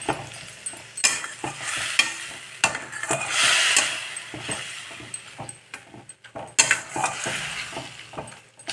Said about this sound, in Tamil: இப்போ வந்து தக்காளி போட்டு நல்லா வதக்கிக்கலாம்